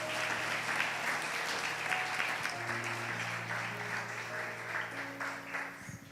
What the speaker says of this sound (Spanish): Démosle ese aplauso fuerte al Señor, fuerte.